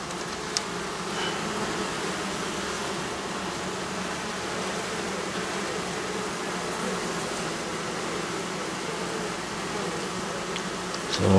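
Honey bees buzz around a small nucleus hive outdoors, a dense, continuous swarm hum that stays steady and moderately loud throughout, with no voices.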